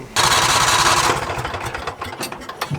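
John Deere Gator engine cranking over during a compression test: a loud, fast rhythmic churning of starter and compression pulses for about a second, then dropping to softer, irregular mechanical knocks and clatter, with no talking.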